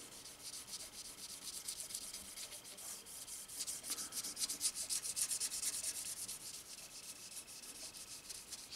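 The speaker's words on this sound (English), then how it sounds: "I'll just get a little wet sand action." Close, fairly quiet rubbing strokes of wet sanding on a guitar finish with soapy Simple Green cleaner, a soft, hissy swish repeating steadily throughout.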